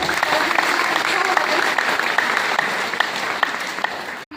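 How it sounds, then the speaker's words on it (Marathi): Steady, loud audience applause at a children's drama performance during a Shri Adi Guru Puja gathering at the Khopegaon centre in Latur, dense clapping continuing evenly before cutting off abruptly at the end. "सर्वांनी जोरदार टाळ्या"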